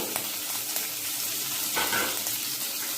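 Cumin, green chillies and whole spices frying in hot oil make a continuous, dense crackling sizzle at close range, steady from start to finish with no one talking.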